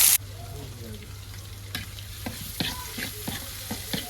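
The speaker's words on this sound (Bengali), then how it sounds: "এই তেলের মধ্যে পেঁয়াজ দিয়ে দিই পাটের শাক দিয়ে।" Onion and jute leaves frying in hot oil, a constant close sizzle broken by repeated sharp stirring scrapes and clacks of a utensil against the pan.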